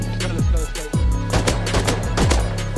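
SMG fire during a raid in the survival game Rust, fast, dense bursts of automatic shots rattling continuously and close, with descending whooshing tones threaded through the barrage.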